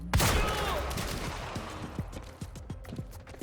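A shotgun fires in the video game Quantum Break: one loud, close blast opens, then a run of quicker, duller impacts and mechanical clicks follows in rough rhythm.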